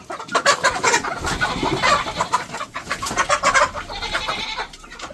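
Grown chickens cluck in a poultry shed, several birds calling close by in overlapping bursts and short squawks that rise and fall across the scene without speech.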